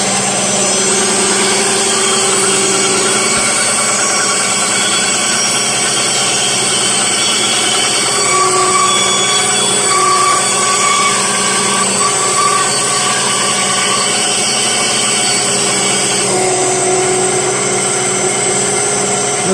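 Delta 10-inch benchtop bandsaw fitted with new ball bearing blade guides, running with a steady, even motor hum and blade whir that stays constant throughout, close and alone with no talk.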